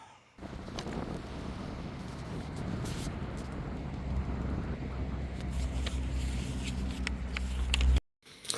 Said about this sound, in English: as you've just heard, the wind is a bit loud today